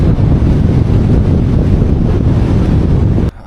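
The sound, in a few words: strong wind on Xinjiang highway 314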